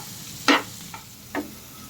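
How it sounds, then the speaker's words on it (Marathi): Green peas frying in a spoonful of oil are stirred in a pan, with two or three short, close scraping strokes over a low, quiet sizzle. "मटार चांगले हलवून घेऊ."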